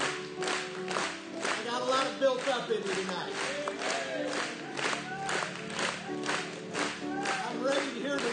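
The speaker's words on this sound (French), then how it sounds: "Acclamons pour lui une fois de plus." A church congregation applauds in a sustained wave of rhythmic clapping and cheering, loud and steady across the hall, with voices mixed in.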